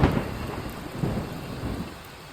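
Heavy rain with thunder: steady dense downpour hiss with low rumbling rolls of thunder swelling and fading, no voices.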